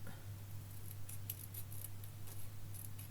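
Scissors snip thin lines into material for a Halloween coffin-shaped basket, a string of quiet, close crisp cuts over a steady low hum.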